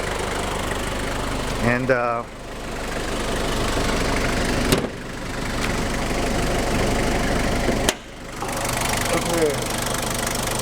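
A 1987 Toyota Blizzard's 2.4 2LT turbo diesel idling with a steady knocking diesel clatter, interrupted by a few abrupt cuts while someone talks over it.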